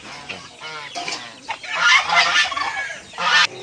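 Chickens at a breeder's loft cluck and squawk close by, a dense cluster of excited calls that grows louder toward the end.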